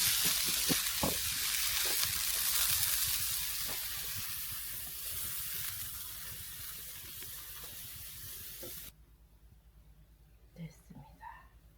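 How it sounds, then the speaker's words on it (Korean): Kimbap filling stir-fried in a pan until its water cooks off gives a steady hiss and sizzle with scraping stirs. It drops off sharply near the end, leaving a few clinks, and a person talks over it. "이렇게 들었을 때 밑에 물이 없어질 때까지 볶아줘야 됩니다."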